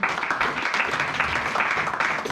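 A church congregation at a French-language worship service applauds together, a dense, steady wash of many hands clapping at close range, sustained and even for the whole stretch with no voices standing out.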